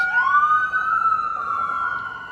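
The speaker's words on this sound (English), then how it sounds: "So sirens are on." Emergency vehicle sirens wail outside, one steady sweeping tone rising and then holding, fairly loud over low traffic rumble.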